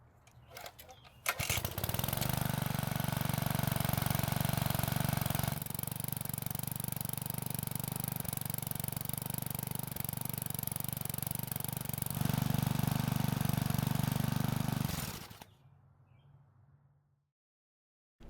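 A Bolens lawn edger's small engine cranks, catches and settles into a steady loud idle for over ten seconds, then sputters and shuts off, fading to silence.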